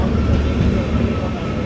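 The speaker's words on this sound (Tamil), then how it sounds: "ரயில் வந்துடுச்சு" Train rumbling past close by in Kerala, a loud heavy low rolling roar filling the whole moment, with a voice faintly underneath.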